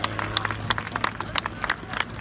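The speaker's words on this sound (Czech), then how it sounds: "Takže velký potlesk pro Martina Šonku a jeho komentátora" Crowd at an open-air air show in Drahany claps for aerobatic pilot Martin Šonka, a scattered burst of hand claps rising and falling across a couple of seconds at a moderate distance.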